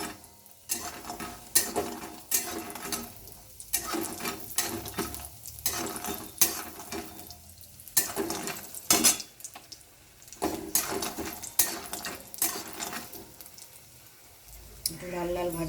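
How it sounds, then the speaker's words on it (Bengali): Lentil dumplings (bori) frying in oil in a wok for Bengali shukto, with continuous sizzling under repeated loud scraping and stirring clatter from a metal spatula, close by. "বড়িগুলো আমি এখন ভাজছি।"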